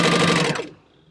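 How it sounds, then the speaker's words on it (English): A sewing machine runs briefly at speed stitching a quarter-inch seam, a close whirring burst that stops abruptly after about half a second. "Now I'm going to sew at 1/4 inch."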